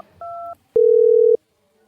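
A telephone line gives a brief two-tone beep, then a louder steady tone lasts about half a second as someone places a call. There is no voice over it.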